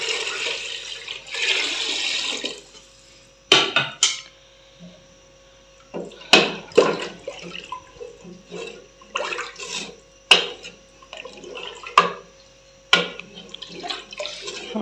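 Water is poured into a pot of lentils (dal) being cooked, a gushing pour at the start followed by scattered clinks and knocks of the pot close by, with no talk.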